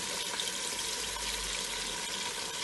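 Tap water runs steadily into a pot on a home kitchen stove for cooking rice and peas, a continuous close hiss and splash with no talk.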